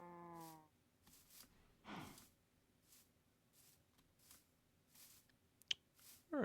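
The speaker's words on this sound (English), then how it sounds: "Those were cows." Cows low in the video game Age of Technomancy, with one drawn-out moo at the start and another shorter call, both faint and distant. Soft repeated footstep-like thuds and a couple of small clicks follow.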